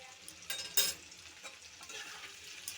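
Ginger paste stirred into softened vegetables frying in a pan, a steady close sizzle broken by a few louder scrapes and stirring clatters in the first second, then a continuous crackle.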